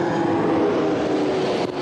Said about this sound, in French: nous entendons sans doute le bruit d'un autre avion qui arrive